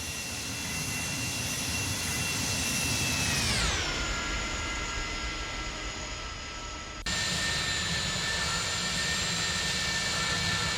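An Airbus A300-600R jet passing by in a flight simulator game, a loud constant engine roar with high turbine whine that sweeps downward in pitch as it passes, then a sudden cut to a steady drone.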